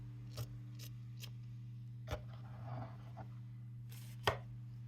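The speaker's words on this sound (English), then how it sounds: "I'm just going to kind of cut through this mess" Wrinkled scrap fabric is cut in a quiet room: a few sparse, sharp snips spaced apart, close and fairly faint, with no talking.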